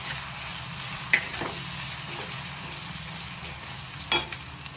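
Ginger garlic paste frying in a pan for a Telugu dried fish curry, a steady close sizzle throughout with a couple of brief stirring clinks.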